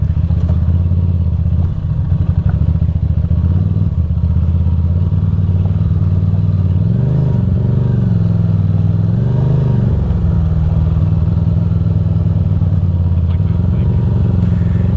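A Ducati Monster motorcycle engine drones loudly and constantly while riding off-road over rocks and dirt, with clattering from the rough ground and slight pitch rises as it revs.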